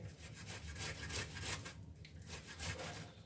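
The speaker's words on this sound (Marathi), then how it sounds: "आपण आता हे बटाटा किसून घेणार आहे आणि रताळी पण अशा प्रकारे आपण किसून घेणार आहे" Potatoes and sweet potatoes are shredded on a grater, a steady run of close, quiet rasping strokes in an even back-and-forth rhythm, with no voices.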